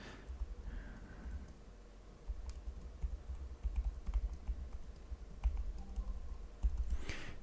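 Keys click in quick irregular bursts as a message is typed on a Kyocera DuraXV Extreme phone keypad, soft and close, with brief pauses between runs.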